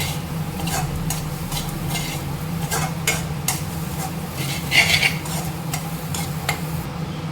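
Boiled chana dal being stirred in hot oil in a pan for an okra dish, with a continuous sizzle under repeated scraping and clinking strokes of a utensil against the pan.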